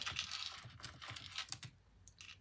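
Someone typing a title on a computer keyboard: a quick run of close, light key clicks that trails off into silence near the end.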